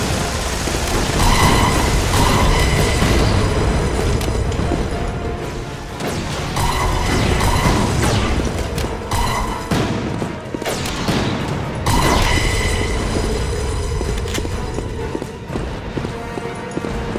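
Mortar fire in a video game comes as repeated heavy booms and blasts in irregular bursts, loud and dense, with brief lulls between clusters of impacts.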